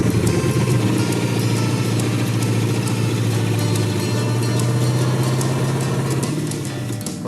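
A Chevrolet Blazer engine runs steadily at idle for several seconds, loud and close, with a constant low drone and no talking.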